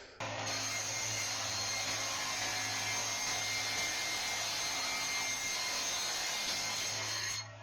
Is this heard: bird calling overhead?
no